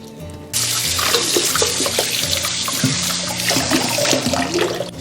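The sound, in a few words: rinsing eel under running tap water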